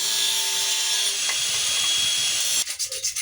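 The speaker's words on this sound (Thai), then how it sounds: "ผมจะใช้หินเจียในการตัดนะครับ" An angle grinder with a grinding disc cuts through a pipe during a toilet water-line leak repair, giving a loud, steady, harsh grinding roar that stops abruptly near the end.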